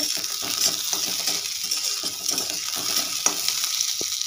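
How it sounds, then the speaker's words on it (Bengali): Onion, chilli and garlic frying in oil in a wok, with a steady close hiss of sizzling and scattered small scrapes and clicks from stirring throughout. "পেঁয়াজ আর লঙ্কাটা ভেজে নিয়েছি, রসুনটা"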